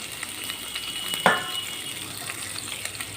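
Chopped onion hits hot oil already frying with whole garam masala for a jackfruit curry, giving a steady sizzle, a sharp clatter near the start and then continued crackling.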